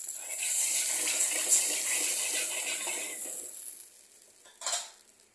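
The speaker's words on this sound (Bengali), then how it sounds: "একটু জল দিয়ে দিলে এখানে দিয়ে দেবো।" Water pours into ground mustard paste in a pan while a Bengali rui fish jhol is being made, a steady rushing hiss for about four seconds that then stops, followed by a brief final splash.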